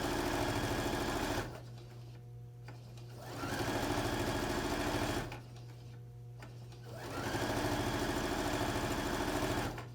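A sewing machine stitching pillowcase fabric runs in three steady whirring bursts, with short pauses between them while the fabric is pivoted, close and clear with no talking.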